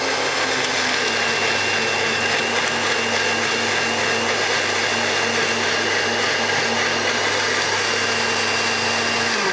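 Mixer grinder whirring steadily as it grinds green chilli, mint and garlic chutney, a loud continuous motor drone with no pauses and no voices.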